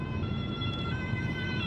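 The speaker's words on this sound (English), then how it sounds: "I think we have an ambulance car coming our way." An ambulance siren sounds on a road near Nürtingen, Germany, its steady wailing tones loud and continuous throughout, with no talking.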